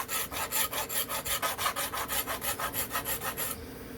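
Rapid rhythmic rasping as a file cuts a sharpening notch into the blade base of a Remington Barlow pocket knife, about twenty even back-and-forth strokes up close, then the scraping stops.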